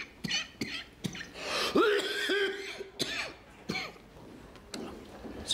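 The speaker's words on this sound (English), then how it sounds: "It's a pretty nasty sounding cough." Harsh, rasping coughs from a person, repeated in several bursts with throaty clearing between, close and fairly loud, with no speech.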